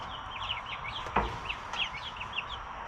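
Chickens cluck in a chicken pen, giving a steady run of short, fairly close calls with a brief sharper squawk partway through. No one speaks.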